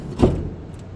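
The engine hood of a Toyota Rangga concept car, also called the IMV Zero, is shut with a single muffled thud, followed by a faint fading rattle.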